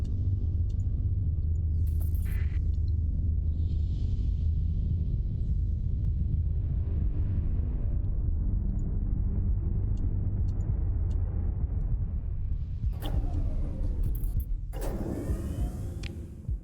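A storm in the space game Starsector, a deep, continuous low rumble that holds steady and loud throughout, with brief sharper swishing noises breaking in near the start and end.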